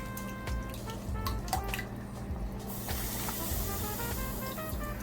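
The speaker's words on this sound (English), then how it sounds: "I'm gonna put it to boil. Place the saltfish in the pot." Soaked boneless saltfish going into a pot of water to boil, with steady splashing and trickling water and a few drips, growing into a broader rush of running water partway through.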